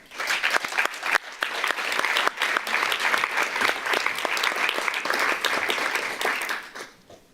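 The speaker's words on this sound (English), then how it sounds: "So I'd like to ask my fellow classmates to join me in a round of applause, which you all thoroughly deserve." Graduates and guests applaud at a master's graduation ceremony at the Olympic Museum: sustained, lively clapping from a sizable crowd that holds steady for several seconds, then fades out near the end.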